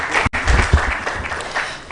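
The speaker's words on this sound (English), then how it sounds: "A round of applause for Peter." A conference audience applauds a panel speaker at a business event: a short burst of many hands clapping, with one abrupt break near the start, continuing evenly for under two seconds.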